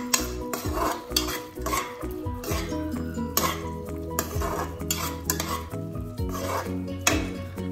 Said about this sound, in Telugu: ఆయిల్ సపరేట్ అయ్యేంత వరకు పాలకూరని ఫ్రై చేసుకోవాలి